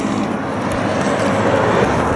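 Steady roaring rush of highway traffic, a continuous broadband drone without breaks or voices, fairly loud and even throughout.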